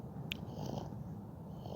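A man imitates a cat purring with his throat, a low, steady, rumbling purr held close to the microphone for a couple of seconds.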